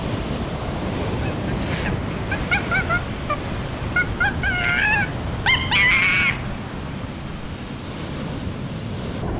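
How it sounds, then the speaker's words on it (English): Loud, continuous surf crashes onto the shore at Kelingking Beach on Nusa Penida, with a steady roar throughout and a few brief honking, bird-like calls rising above it midway. "I know it's really loud here with the waves."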